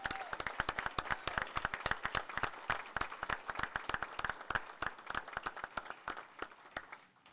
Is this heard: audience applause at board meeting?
yes